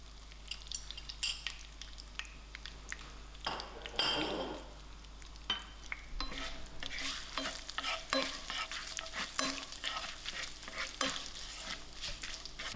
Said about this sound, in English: Now my mustard seeds are popping